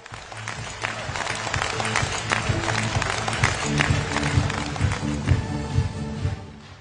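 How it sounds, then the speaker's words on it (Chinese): An audience breaks into applause, a dense, sustained patter of many hands clapping together, close and fairly loud for several seconds. "听懂掌声"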